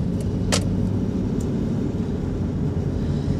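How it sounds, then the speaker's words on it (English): Road traffic roars steadily as cars pass close by, a continuous loud low rumble of engines and tyres with a brief higher hiss cutting through, and no one speaking. "sorry, this traffic is crazy."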